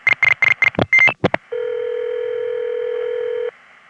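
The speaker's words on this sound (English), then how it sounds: "There's your 2 kilohertz beeps in action." Rapid telephone dialing tones on a crossbar exchange are followed by a steady, loud two-second 2 kHz trunk beep, then a faint lingering hum.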